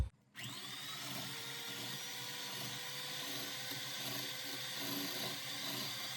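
An electric mixer with six speeds runs at setting three, whipping egg whites for a cocoa sponge cake: a steady high whirring motor hum that starts after a brief clunk and drones on evenly and close, with no talking.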